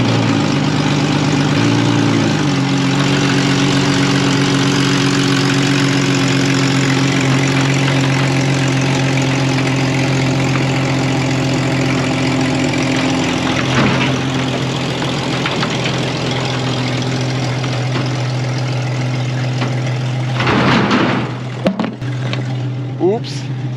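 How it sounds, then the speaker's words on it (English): An old, cheap, rough Jeep engine runs steadily with a deep, loud rumble as it drives off a trailer, with a brief shift in pitch near the start and clunks and knocks toward the end. "I will now attempt to drive this thing off the trailer"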